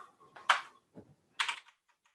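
A few isolated keyboard key clicks, sharp and close, spaced out with quiet gaps between them.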